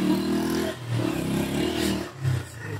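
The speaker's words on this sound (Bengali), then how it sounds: "মোটর সাইকেল চালাইতেছে, যতটুক না জোরে চলে তার চেয়ে বেশি জোরে আওয়াজ হয়।" A motorcycle near the Bagha Mosque in Rajshahi makes a loud, droning engine roar that rises and dips over a few seconds, sounding louder than its speed.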